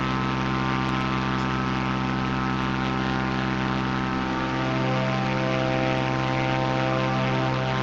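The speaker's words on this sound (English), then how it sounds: "I'm flying a Cessna Corvallis TT. It's a C400 version." Steady, loud drone of a Cessna Corvallis TT (C400) propeller aircraft engine in a flight simulator, with dense harmonic tones holding constant throughout and no talk.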